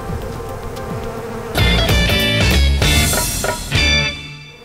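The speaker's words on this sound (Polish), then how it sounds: "Tu mamy jedną rodzinę pszczelą, którą będziemy otwierali i próbowali znaleźć matkę pszczelą." A honeybee colony drones at an opened hive in a Polish apiary, a dense buzz that swells loudly partway through and stays close and full for the rest.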